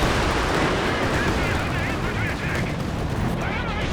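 Dense, continuous gunfire and battle noise from Company of Heroes 2, machine guns rattling amid artillery rumble and explosions, a loud, unbroken wall of combat sound throughout.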